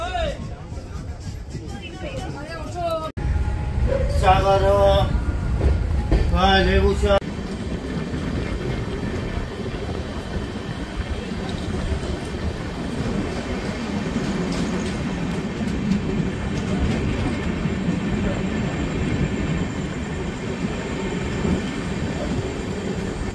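Gour Express passenger train running from Malda toward Sealdah, heard from inside a general coach: continuous rumble and rattle of the wheels on the track, with squealing tones early on and people talking over the noise.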